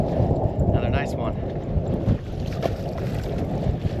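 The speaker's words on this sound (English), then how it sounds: "it is super windy" Strong wind buffets the microphone and rushes over the water while bass fishing from a boat in spring, a steady loud low roar throughout with faint voice-like sounds briefly mixed in.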